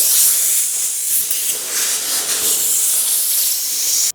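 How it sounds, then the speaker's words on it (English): An air blower blow-dries sanded, rust-treated metal car guards, a loud, steady broadband hiss of rushing air that holds for about four seconds and then cuts off abruptly. "then I'm gonna get my air blower in there and really give it a good blow dry"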